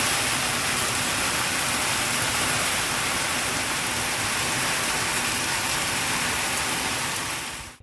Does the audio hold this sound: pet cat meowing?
no